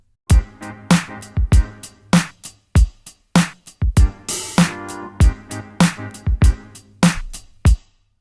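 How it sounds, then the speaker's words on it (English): A bouncy run of short, punchy synth brass stabs panned left and right in a steady rhythm, each note hitting hard and decaying fast, with no voices. "one of the things that I added just to support that melody, that bouncy melody, was this synth brass."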